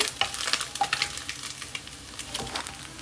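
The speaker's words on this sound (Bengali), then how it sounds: "সবগুলা মাছ ভেজে নিচ্ছি তেলের ভিতরে দিয়ে দেবো" Small mola fish frying in hot oil, a steady close sizzle with repeated light crackles and pops, no talking.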